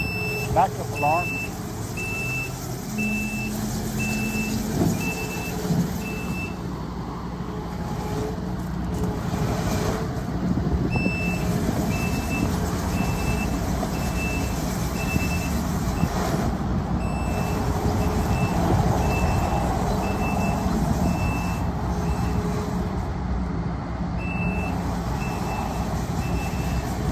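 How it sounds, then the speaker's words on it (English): A 2022 Kubota SVL97-2 compact track loader sounds its backup alarm in a regular, evenly spaced series of loud beeps over the machine's steady engine rumble, while a person talks nearby. "Backup alarm."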